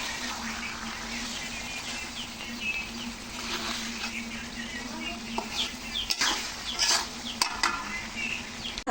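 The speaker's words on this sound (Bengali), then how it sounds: "এইভাবে আমি খাসির রানটাকে ভালো করে কষিয়ে নেব।" A whole mutton leg is braised and stirred in a kadai. Scraping stirring strokes and a soft sizzle of frying run steadily throughout, close but fairly quiet.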